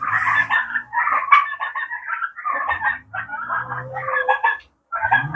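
Several chickens cluck and chatter nearby in overlapping, busy bursts, with a brief quiet gap near the end.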